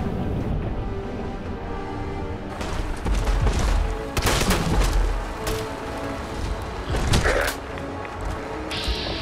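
Sniper rifle gunfire in Fallout 4, set in the Glowing Sea: several sharp, loud shots ring out at irregular intervals over a busy, rumbling game soundscape.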